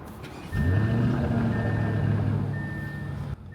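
A car engine cranks and catches about half a second in, then settles into a steady, close idle with a faint high tone above it, cutting off just before the end; the car is in Las Vegas.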